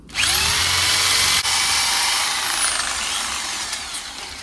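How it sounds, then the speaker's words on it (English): A power drill drills through a brick wall with a loud, steady high-pitched whine, broken by a brief dip before grinding on continuously. "If it's really easy, switch to a normal drill straight away."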